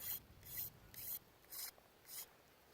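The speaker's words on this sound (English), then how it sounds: "scraping to make it round" A thistle dart shaft being scraped round for a blowgun: five regular rasping strokes, each a short bright scratch, close and quiet with small gaps between.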